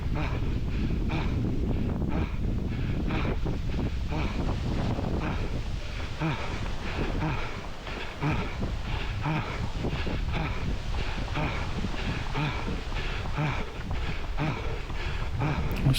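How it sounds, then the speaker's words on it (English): Gusts of wind buffet the microphone along an exposed stretch of a woodland 5K parkrun course, with a steady, loud rumble lasting throughout and no talk over it. "We're getting a few gusts of wind on this little bit just here."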